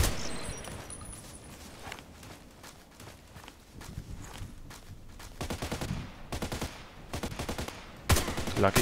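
Gunshots in a shooting game with an HK 417D assault rifle, several sharp cracks and bursts of fire, some quick runs of shots, amid footstep-like movement sounds.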